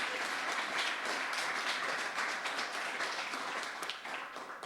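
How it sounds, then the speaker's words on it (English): Sustained applause from an audience at a housing rights anniversary event in the Long Gallery of Parliament Buildings: a dense, even wash of many hands clapping that fades slightly at the end, with no speech over it. "Can we get another round of applause,"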